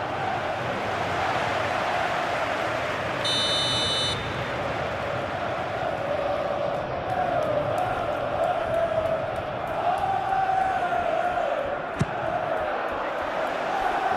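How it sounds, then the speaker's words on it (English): Steady, dense crowd roar fills an eFootball simulation of a Premier League match between Crystal Palace and Manchester City, swelling slightly at times, with a brief buzzer-like tone early and a sharp click near the end. "Maybe the crowd will stay a little quieter next time."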